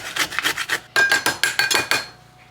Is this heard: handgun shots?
no